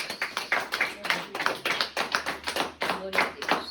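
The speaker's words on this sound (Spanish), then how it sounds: "Denle un aplauso a Cristo" Church congregation clapping in rhythm during a worship service, crisp rapid claps in a steady beat, fairly close and moderately loud, with faint voices in the background.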